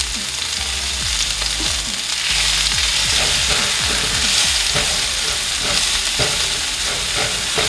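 Chopped onion and garlic frying in a hot pan, a dense, steady sizzle with bursts of crackling and stirring clatter throughout, close and loud.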